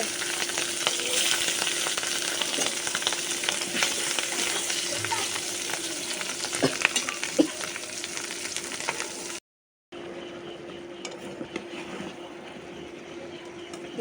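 Spices for a jali vegetable curry fry in hot oil with a steady, dense sizzle that runs close and unbroken, cutting out briefly before resuming.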